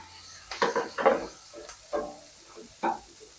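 A spatula scrapes and stirs Kashmiri chillies, coriander seeds and black pepper dry-roasting in a pan, in several short, close bursts separated by brief pauses, with light sizzling.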